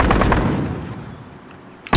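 Call of Duty Modern Warfare gunfire, a booming, rumbling blast that fades over about two seconds, loud and close, with a sharp new report cutting in at the very end.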